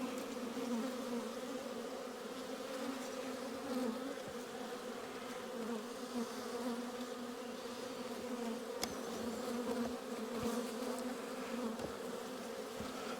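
Honey bees buzzing during a spring hive inspection, a steady, droning hum from many bees close by, with occasional faint clicks and taps from handling the frames.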